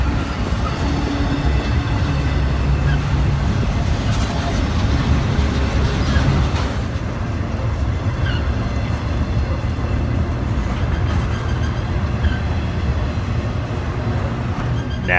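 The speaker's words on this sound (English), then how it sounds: "is a hot UPS intermodal train running out of Rutherford, Pennsylvania" A hot UPS intermodal freight train out of Rutherford, Pennsylvania, rumbles past nearby, loud and steady throughout, with rolling wheel noise and faint rail clatter.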